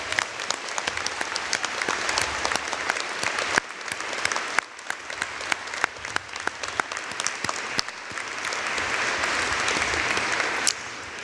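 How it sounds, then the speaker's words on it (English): A large audience at a Simon Fraser University fall 2021 convocation ceremony applauds in a long, sustained wash of clapping that swells and dips slightly but never stops. "Let's give a round of applause for them in absentia"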